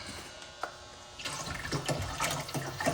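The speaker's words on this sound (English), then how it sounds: "Now I'm going to add this box of chicken stock." Chicken stock glugging from a box into a gumbo pot, a quiet start giving way to a steady splashing pour of liquid with small gurgles, close and alone.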